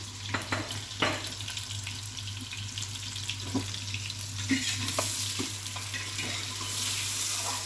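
Gentle continuous sizzling of onions browning in a frying pan for beef nihari, with occasional stirring scrapes, over a low steady hum; no one talks.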